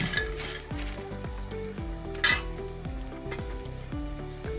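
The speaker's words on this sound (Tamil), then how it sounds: "நம்ம மீதி பேட்ச் வந்து பொரித்து எடுத்துடலாம்." Potato French fries deep-fry in hot oil with a steady, dense bubbling sizzle throughout and a brief louder crackle midway, close and alone with no talk.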